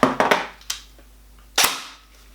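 Classic Army Nemesis Gen2 LS12 airsoft gun fired in short bursts, a handful of sharp close snaps clustered at the start, then a single louder crack after a pause, with no voices.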